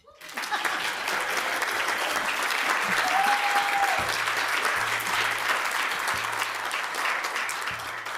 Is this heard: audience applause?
yes